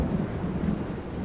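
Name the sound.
thunderstorm in a video game battle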